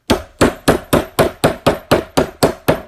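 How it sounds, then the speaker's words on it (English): A nylon hammer strikes a stamped metal concho to flatten it: ten sharp, even blows at a steady pace, loud and close, with no voices. "Now, then you get your nylon hammer."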